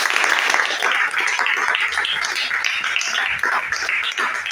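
Church congregation clapping loudly and continuously in a dense, sustained wave of applause that fills the whole stretch without a break.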